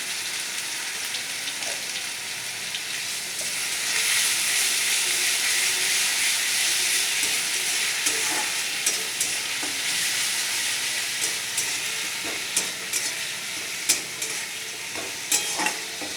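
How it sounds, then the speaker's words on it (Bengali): Small eggplant pieces fry in a pan with a steady hiss of sizzling oil that grows louder after a few seconds, with light clinks of stirring scattered through the close, unbroken sizzle. "বেগুন ভাজা"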